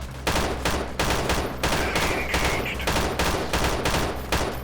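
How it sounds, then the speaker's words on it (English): Rapid, sustained gunfire in the guerrilla warfare video game Freeman Guerrilla Warfare, loud shots repeating at a steady, fast rhythm with no pauses for the whole stretch. "I'm just randomly firing off here."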